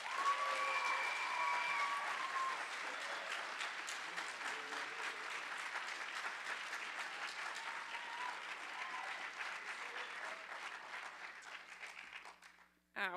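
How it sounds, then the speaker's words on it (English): Graduation audience at Grace Prep's 2012 commencement applauds the commencement speaker, Kathy Sealand, with sustained, dense clapping that slowly fades before stopping near the end. "Give a round of applause for Kathy Sealand."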